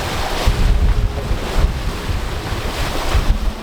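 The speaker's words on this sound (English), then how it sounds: "We have wind again. Literally 15 knots just came in instantly." Strong wind of about 15 knots roars across a sailing boat at sea on the way toward the Southern Ocean, loud gusting buffets over rushing waves and heavy wind noise on the microphone, with no voices.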